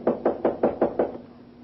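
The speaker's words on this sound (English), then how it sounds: "Knock on the door." Six firm knocks rap on a hotel room door in an even, quick rhythm, close and distinct, then stop into quiet.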